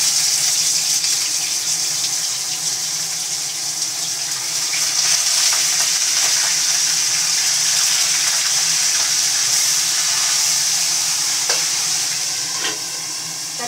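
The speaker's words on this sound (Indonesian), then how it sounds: "Ini ikannya mau digoreng ini ya." Fish sizzling steadily as it fries in hot oil in a pan, a continuous bright crackle with faint clinks of utensils, no voices.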